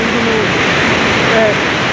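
Water from the Ipanema River pours out past a dam in a loud, steady rushing roar with a broad, even spread, heard close with no break.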